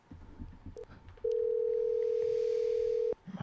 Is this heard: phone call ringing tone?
yes